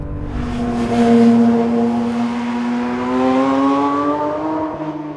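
A 2024 Porsche 911 S/T with a lightened clutch and flywheel revs up loud and close, its rising engine note climbing steadily in pitch over several seconds, with no talking.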